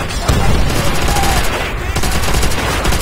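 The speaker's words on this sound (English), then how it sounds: "I heard the gunshots." Rapid gunfire and machine gun bursts fill a Call of Duty: World at War battle, dense, loud and continuous with sharp cracks layered over a constant roar of combat.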